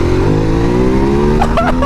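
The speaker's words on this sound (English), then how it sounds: "I just want to gun it in first and just see what the torque is down low." A Ducati Multistrada 1260 Pikes Peak motorcycle accelerates hard in first gear, its engine note climbing steadily in a loud, close, continuous rising drone.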